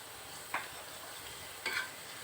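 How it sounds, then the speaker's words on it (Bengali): Onions with a little mustard seed frying in a pan for a homemade mango chutney, with a low steady sizzle and two brief scraping stirs, one early and one near the end. "একটু নাড়াচাড়া করে নিচ্ছি"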